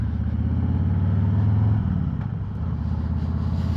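A vehicle engine running hard close by as it takes a turn on a rough track, a steady droning growl that rises in pitch briefly and then eases off slightly, with no talking.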